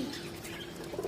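Pigeons coo softly while being fed grain, a low, faint murmuring hum lasting about a second with no talk.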